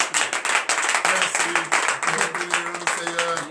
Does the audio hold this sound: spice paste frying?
no